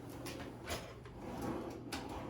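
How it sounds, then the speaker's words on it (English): A soft-close kitchen drawer in a historic Canyon Road home in Santa Fe slides shut with a gentle rolling rumble and muted thuds, heard close in a quiet room without talk. "These are all soft close drawers, by the way."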